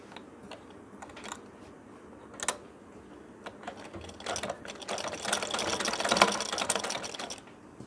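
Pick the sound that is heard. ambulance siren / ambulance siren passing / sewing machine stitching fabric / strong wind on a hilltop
sewing machine stitching fabric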